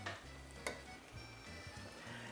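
Peas and vegetables are stirred in a boiling pot for a Sicilian frittedda, with a soft, bubbling hiss, faint clinks and scraping, heard quietly at close range.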